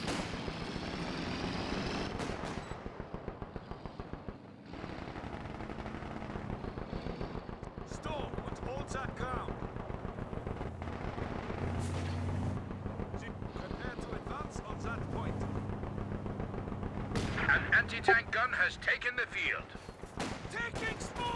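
Machine gun bursts and artillery fire in the video game Company of Heroes 2 crackle and thud through a busy battle mix, irregular and fairly close, with game voices and a player's talk at times.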